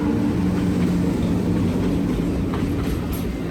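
A train rumbles steadily past the Harambe Market seating area at Disney's Animal Kingdom, a continuous loud low roar with faint clattering and no talking.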